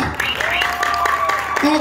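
Brief, steady applause from a crowd at an anniversary show, with voices and whoops blended into the clapping throughout.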